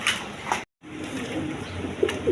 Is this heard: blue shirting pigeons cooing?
yes